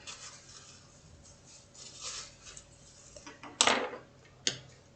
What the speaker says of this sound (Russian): Кисть вытираем.